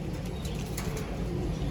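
A pet racing pigeon coos, a soft low murmur over steady outdoor background noise, with faint higher chirps drifting in.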